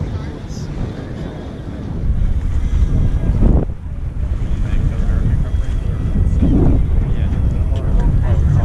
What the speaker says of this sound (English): you can see the boat starting to lean over and to power through the waves